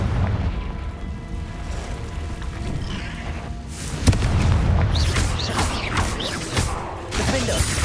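The Confringo fire spell in Hogwarts Legacy lands with a sharp crack followed by a rumbling, booming blast over a busy game soundscape, fairly loud and close.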